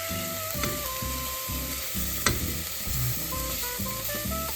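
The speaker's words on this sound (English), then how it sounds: "So just stir it around, and you cook it on medium until the onion and garlic, you know, go translucent" Onion and garlic frying on medium heat in a pan for a Parma burger, an even close sizzle under what sounds like background music, with one sharp clatter of stirring partway through.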